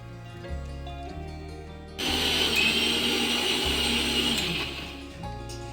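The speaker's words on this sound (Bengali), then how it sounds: "মশলাটা মা বেটে নিচ্ছে" An electric grinder whirs loudly for a few seconds as a mother grinds spices into a paste, a steady buzzing motor that cuts in abruptly and then winds down, with background music and no talking.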